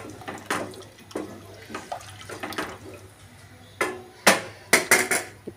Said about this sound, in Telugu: ఇప్పుడు 1 గ్లాస్ వాటర్ పోసేసుకున్నాను